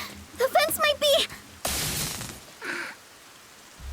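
Rain hisses in a brief burst, then a shorter gust of falling rain, in the video game Master Detective Archives: Rain Code, after a short stretch of talking.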